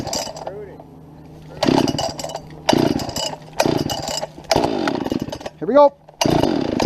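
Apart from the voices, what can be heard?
P60 chainsaw cutting into a tree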